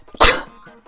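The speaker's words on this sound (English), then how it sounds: "Oh, I'm gonna sneeze." A single loud, explosive allergy sneeze bursts out at close range, followed by a brief, quieter breathy tail.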